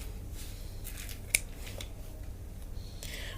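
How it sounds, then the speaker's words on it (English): Scissors snip through crochet yarn in a single quick, crisp cut against a faint, steady background hush. "and cut the yarn off."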